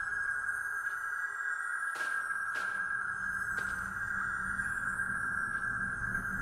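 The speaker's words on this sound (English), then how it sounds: "that's just humming because it can hear all these crystals below it" A creature in a video game hums above a crystal deposit, a steady, piercing sonar-like tone held continuously with faint low rumble and a few brief clicks underneath.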